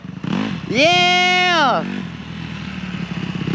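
A dirt bike ridden by a first-time beginner revs up sharply, holds a high whining pitch for about a second, then drops back to a rough idle, with a voice speaking nearby.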